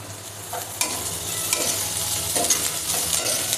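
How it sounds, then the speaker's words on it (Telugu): Onions frying in a pan for a pakoda curry, a continuous close sizzle punctuated by a few scraping stirs of a spoon, steady and fairly loud without speech. "ఉల్లిపాయలు కొద్దిగా మగ్గిపోవాలండి, బాగా మగ్గాలి, దోరగా వేగిపోవాలన్నమాట."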